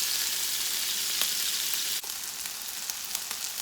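Chicken strips for fajitas sizzle and fry steadily in a hot pan, a continuous crackling hiss with one brief sharp clatter midway, no voices over it.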